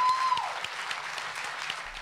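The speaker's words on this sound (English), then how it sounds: "Ultimately, the board voted not to go through with the layoffs, followed by a big round of applause." Applause fills a school board meeting room after a vote, steady clapping from a crowd at moderate distance, continuous and fairly even with a faint electronic tone briefly over the start.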